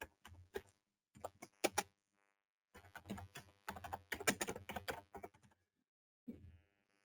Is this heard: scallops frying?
no